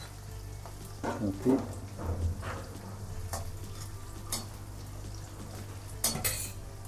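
Ginger, onion and garlic frying in a pan make a quiet sizzle beneath repeated scrapes and clinks of a spoon against the pan, with a few louder knocks; one brief spoken word.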